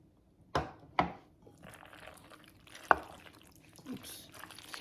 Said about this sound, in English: I'm gonna mix in my cheese sauce.